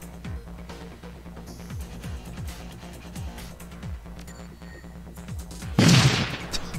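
Hacked turrets in Shadowrun: Dragonfall fire a steady run of evenly spaced, muffled shots over background game sound, ending in a louder burst near the close.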